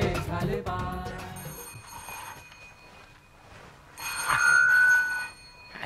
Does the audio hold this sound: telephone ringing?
yes